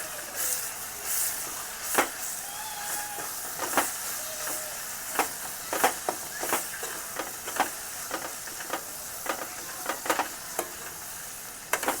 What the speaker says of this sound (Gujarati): હવે આપણે મિક્સ કરી લઈશું બધું